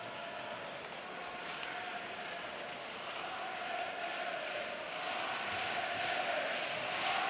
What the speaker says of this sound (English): Now the crowd getting behind HC Davos